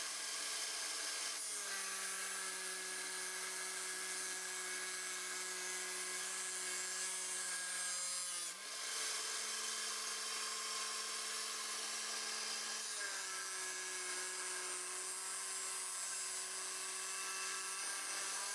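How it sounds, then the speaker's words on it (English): A MicroLux drum thickness sander runs steadily as wood is fed through by hand, producing a continuous loud whining drone with slight shifts in pitch as the workpiece passes the drum. "So, first pass through the drum thickness sander, I'm just about at 100 thousandths of an inch."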